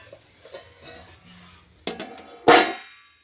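A metal lid set onto a pan while oats and egg cook for a baby, a sharp clang near the end after a lighter knock, with quiet kitchen sounds before.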